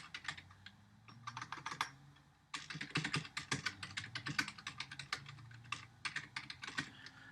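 Rapid clattering keystrokes on a computer keyboard while code is being typed, close and clear in irregular bursts with a brief pause near the start.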